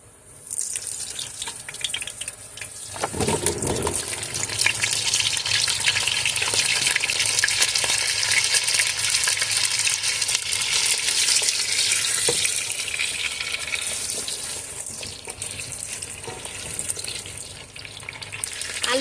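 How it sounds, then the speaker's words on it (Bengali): Loud, constant sizzle of potatoes frying in hot soybean oil, beginning with a sharp burst as they hit the pan and continuing steadily, no speech. "এখন আমি আলুগুলো ভেজে নেব"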